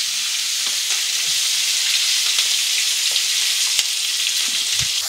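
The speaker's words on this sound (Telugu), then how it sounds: "చూసారమ్మా ఇది వేగుతుంది చక్కగా" Onion, green chilli and turmeric fry steadily in a hot pan for a fish curry, giving a continuous close sizzle with faint scattered pops and stirring clicks and no voices.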